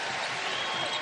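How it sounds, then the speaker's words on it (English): Crowd applause and cheering from spectators at a basketball tournament game, a steady broad wash of clapping and roar lasting about a second without pause. "That was more of a thank you applause."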